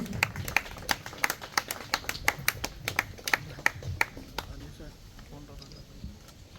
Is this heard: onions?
no